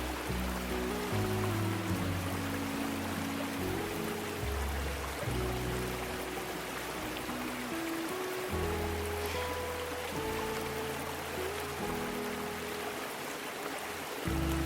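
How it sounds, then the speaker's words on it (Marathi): Water from a forest pond flows toward a waterfall during the monsoon, a steady, soft rushing wash that runs unbroken throughout with a faint low hum beneath. "इथे तुम्हाला आता आवाज येत असेल पाण्याचा, तर ती इथे तळी आहे बघा"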